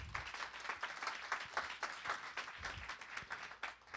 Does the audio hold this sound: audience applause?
yes